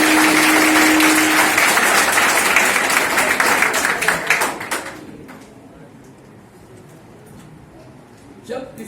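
Audience applause at a workshop, a dense burst of clapping lasting several seconds that dies away around the middle, leaving quieter room sound and a brief knock near the end.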